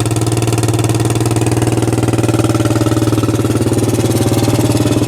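Suzuki quad engine running steadily with a loud, rough exhaust from broken-out baffles, a fast regular pulsing beat close up with no voices.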